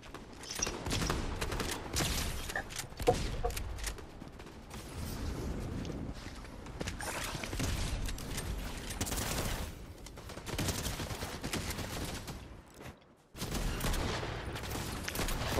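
Rapid gunshots and mechanical clatter from a Marvel video game come in several bursts separated by short pauses, moderately loud with faint background ambience.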